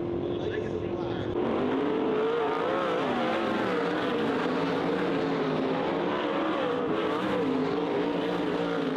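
Winged 410 sprint race cars roar around the Grays Harbor Raceway oval at night, a loud, continuous engine drone rising and falling as they circle, with an announcer speaking over the noise.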